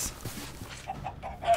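Chickens cluck in Minecraft, a few short close clucks spread across a brief stretch of quiet game sound, with no talking.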